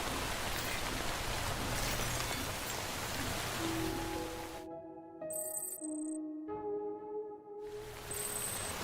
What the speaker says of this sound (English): Damn rain won't quit.